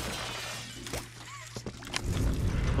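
An object smashing apart in the horror game Poppy Playtime, a brief sharp shattering crash with a few scattered impacts over low game ambience and rising background noise.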